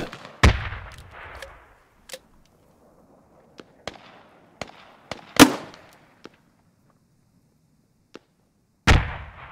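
A grenade is launched and explodes in the SQUAD military shooter on the Kohat Toi river valley map, heard as sharp isolated blasts and cracks scattered across a quiet battlefield, with a few loud booms among fainter distant shots.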